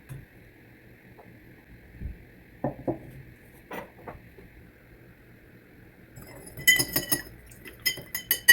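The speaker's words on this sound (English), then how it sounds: "You can see that stirring the slurry will speed up the dissolution." A spoon stirs sugar in a glass, giving sparse light clinks that grow into a quick run of bright ringing taps near the end, close and fairly quiet over a faint steady hum.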